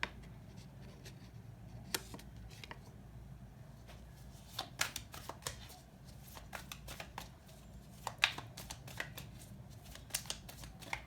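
Tarot cards being shuffled by hand, soft riffling and sharp flicking snaps in irregular bursts over a quiet background, close and intimate.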